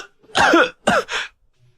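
Violent coughing from an ill, frail man bent double: a harsh double burst of coughs, then a shorter third hack, close and loud, with no talking.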